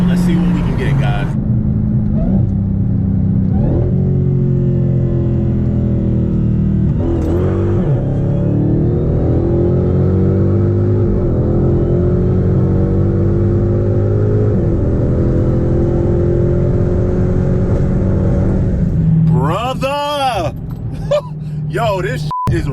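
A Dodge Challenger Hellcat Redeye tuned to 840 horsepower pulls hard through a third gear roll-on from 60 to 130, its engine note climbing steadily and loud for about twenty seconds before a quick shift and lift near the end.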